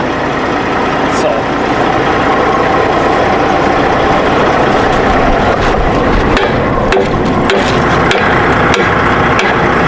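Someone hammers underneath a semi tractor truck, with sharp metallic strikes landing irregularly over the steady rumble of the idling engine, the blows growing more frequent toward the end while people talk.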